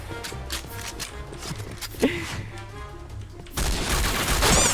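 G36C rifle fire in the shooter game Point Blank, bursts of rapid gunshots mixed with in-game clatter and effects, a sharp crack midway and a louder dense burst at the end.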